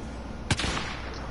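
A single sharp gunshot in a PS4 shooter game rings out, followed by a brief echoing tail, set against steady noisy game ambience.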